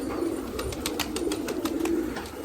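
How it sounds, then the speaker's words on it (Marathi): Pigeons on a rooftop give soft, low throaty coos, close by, repeating in a short rolling phrase over faint background noise. "आणि काही कबूतर वरती पात्र्यावर."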